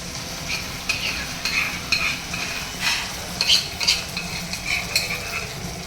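Cashew paste is stirred into garlic frying in a pan: an even sizzle runs underneath while a metal spoon scrapes and clinks in uneven, fairly loud strokes near at hand.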